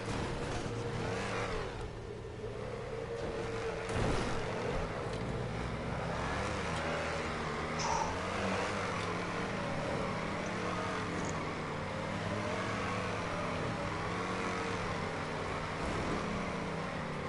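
A car driving in GTA 5 Online gives off a steady engine drone with rises in revving, going on without a break and heard fairly close, with no talking.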